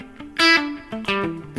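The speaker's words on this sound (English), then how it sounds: "sort of palm mute coming on and off" An electric guitar on high-gain overdrive plays a scale of distinct single notes, switching between tight, chunky palm-muted picks and ringing open notes, heard alone at moderate volume.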